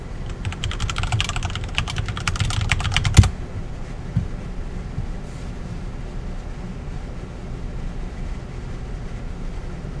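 Computer keyboard typing in a rapid patter of clicks for a few seconds, then stopping, leaving a quiet room hum.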